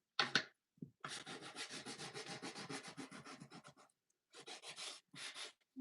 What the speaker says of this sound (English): the bad part about sanding this is it does make a mess